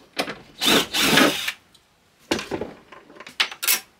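Short bursts of scraping and rattling from a screwdriver taking a tool holder strip off a new toolbox, in several separate close clatters with quiet gaps between them.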